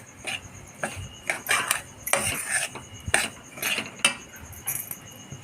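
Semolina (rava) roasting in a pan with a little ghee and oil is stirred with a spoon, producing repeated close scraping and clinking strokes against the metal in an uneven rhythm.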